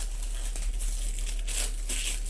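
Backing being peeled off a sheet of labels at a desk, a short soft crinkling, tearing rustle in a couple of quiet bursts over a low steady hum.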